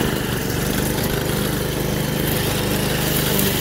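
A Toro 53 SP self-propelled lawn mower runs steadily nearby, its small engine droning loud and continuous with a low, even hum throughout, no talking.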